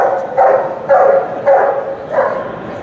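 An attack dog barks four times in a steady rhythm during a demonstration at KelTec, each bark loud, deep and close, with no talking.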